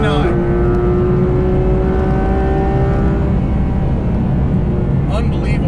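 A Porsche 991.2 GT3 RS engine revs high, a loud continuous roar with a rising then falling whine heard from inside the car, steady engine drone throughout.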